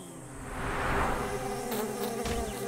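Loud, continuous buzzing of bees swarming close by, a dense droning hum that swells slightly and holds steady throughout.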